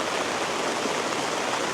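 Heavy rain pours down in a village, a dense, steady broadband hiss with no breaks, loud and close, with no voices.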